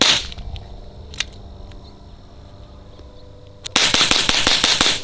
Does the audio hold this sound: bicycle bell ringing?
no